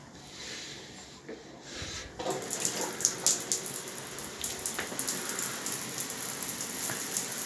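Hot water gushes steadily from a household tap, starting quietly and swelling to a full, splashy flow after a couple of seconds that keeps running to the end.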